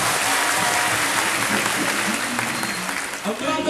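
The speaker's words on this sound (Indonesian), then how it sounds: "Tepuk tangan untuk kita semuanya." Thousands of students applaud at a motivational event, dense, loud continuous clapping that holds steady and dips briefly near the end.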